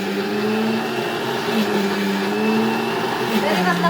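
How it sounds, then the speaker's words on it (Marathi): A kitchen mixer grinder runs with a steady whining motor drone at birthday-party cooking preparations, continuous and loud, with people talking over it. "मिक्सरचा आवाज येता म्हणजे काहीतरी मेनू दिसता."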